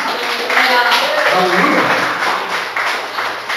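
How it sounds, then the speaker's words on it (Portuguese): Congregation clapping in a Portuguese-language evangelical church service, a steady dense wash of applause running the whole time beneath loud voices calling out over it. "Você pode dar aplauso ao Senhor Jesus?"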